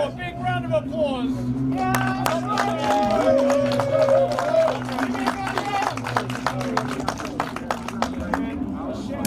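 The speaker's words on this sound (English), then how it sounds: "one more big round of applause." At a Radical Cup race podium celebration at Sebring, a crowd claps in a sustained, uneven patter of sharp claps. Voices talk over it and a low drone runs underneath throughout.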